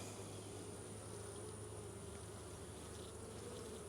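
Honeybees of a weak, struggling colony buzz steadily at the open hive while frames are inspected, a continuous soft hum with a faint low drone throughout and no talking.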